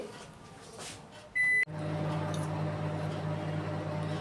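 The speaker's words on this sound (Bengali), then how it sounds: "এই 3 চামচ তেলটা আমি মাইক্রোওভেনে পাওয়ার লেভেলে গরম করে" A microwave oven heating three spoonfuls of cooking oil gives a short, loud electronic beep, then settles into a steady, close mechanical hum as it runs.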